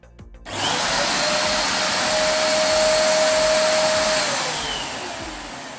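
Einhell TC-AV 1720 DW ash vacuum cleaner switching on and running, a sudden start rising into a loud, steady motor whine and airflow roar that holds close by, with a faint tone sliding downward near the end.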